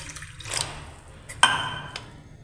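Water poured into a pot of washed dal for methi dal tadka, heard as a brief close splash and trickle with a sharper pour partway through, alone with no voices.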